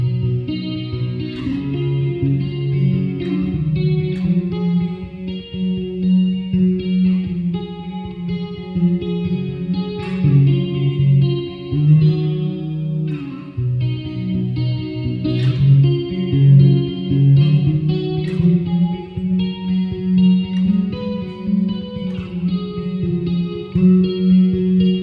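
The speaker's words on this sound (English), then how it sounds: "Some excellent clean tone sounds. Very, very impressive guitar." An ESP LTD M200DX electric guitar plays a melodic passage with a clean, shimmering tone, steady and sustained throughout with a chorus-like wash.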